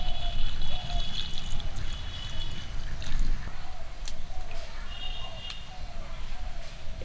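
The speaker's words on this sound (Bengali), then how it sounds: "আলু আর ডিম সিদ্ধ করে নেওয়ার জন্য কড়ায় জল দিয়ে দিচ্ছি" Water pours into a wok to boil potatoes and eggs, making a close, continuous splashing and trickling with faint kitchen clatter throughout.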